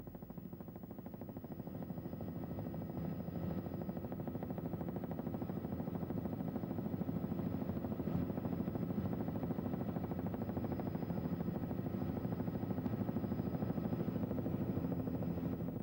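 A helicopter's rotor chops steadily at a distance, a low pulsing thrum that holds even throughout, fairly faint with no other sounds.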